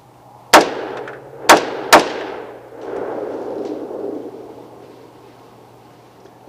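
Three sharp 6.5 Creedmoor rifle shots at hogs, fired about a second apart outdoors at night, each loud crack followed by a fading echo, with a faint steady hum underneath.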